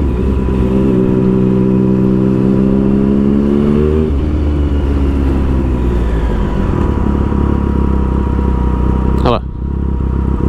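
A motorcycle rides through city traffic in Prague, its engine loud and close throughout, rising in pitch as it accelerates for a few seconds and then settling to a steady running note, with a brief squeal near the end and a voice speaking briefly.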